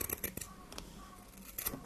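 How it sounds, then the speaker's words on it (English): Scissors trim excess felt on a wool tassel Christmas tree craft, making several quick, close snips in a short burst. "we can just trim off all the extra piece of felt"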